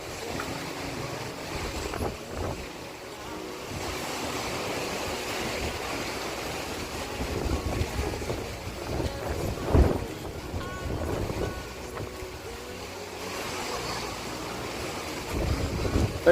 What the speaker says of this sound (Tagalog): Ang lakas ng agos ng hangin.